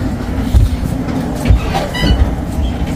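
Interior of a passenger train compartment on the Krakow to Warsaw route, with a steady low rumble and a few soft thumps from the carriage, no talk.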